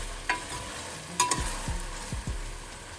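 A pot of chicken potato soup is stirred after a seasoning cube goes in, a faint bubbling hiss with a few clinks and scrapes of a spoon against the pot.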